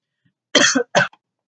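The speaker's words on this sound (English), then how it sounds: "I just started coughing." Two sharp, close coughs in quick succession, followed by silence.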